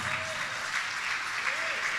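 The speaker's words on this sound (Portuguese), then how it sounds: "Vamos aplaudir o Senhor." A church congregation applauds together, a dense, even wash of clapping that carries on steadily at moderate level for the whole stretch, with no voices rising above it.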